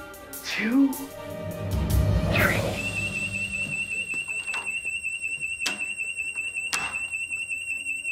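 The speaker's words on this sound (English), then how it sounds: "I'm going to turn on the fire alarm" A building fire alarm sounds steadily in a church with a high, continuous electronic tone, joined by sharp periodic clicks. Voices and movement come just before it starts.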